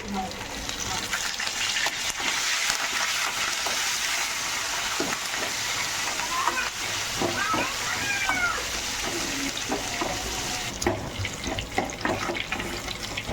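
Curry leaves crackle and sizzle in hot oil while tempering spinach dal, a steady dense frying hiss throughout with a few sharper pops and a faint voice in the background.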